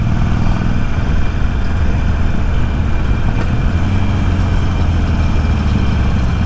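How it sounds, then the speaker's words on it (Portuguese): A Harley-Davidson Iron 883 motorcycle engine idles close by at a traffic light, giving a steady, loud low rumble that stays unbroken with no talking. "olha o barulho do motor da moto"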